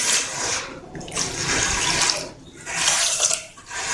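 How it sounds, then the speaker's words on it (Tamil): Water poured into a pot in bursts, splashing and running in three pulses for sugar syrup. "இப்போ இதுக்கு 1 கப் அளவுக்கு நம்ம தண்ணி ஆட் பண்ணிக்கலாம்."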